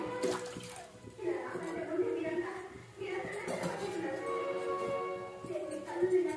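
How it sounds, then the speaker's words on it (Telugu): Water pours steadily into a pan for cooking chitti appadalu, a continuous splashing rush that swells and eases, with faint talk in the background. "ఇందులో కొంచెం వాటర్ పోసుకోవాలి"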